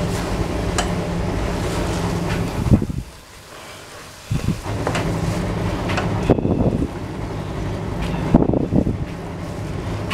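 A blender purées chicken and bacon pâté with a loud, rough, broadband motor roar that cuts out briefly partway through, then starts again in uneven bursts, close to the microphone, with no talking.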